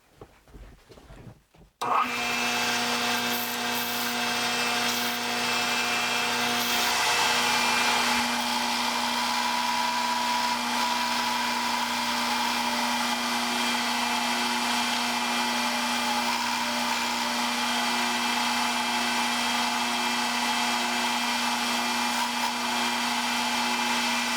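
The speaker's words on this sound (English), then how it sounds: "we'll go to the grinder, cut that 30-degree angle, and then reestablish this flat edge also on our belt sander" Power grinder and belt sander shaping a 30-degree angle and flat edge on a wooden segmented turning blank, a loud steady motor whine with abrasive rubbing that starts abruptly and runs continuously, no talking.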